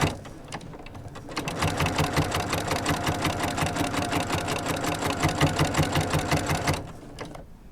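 A sewing machine stitches an 8-pointed star mug rug, running steadily at close range with a fast, even needle chatter for about six seconds before stopping, with no talk over it.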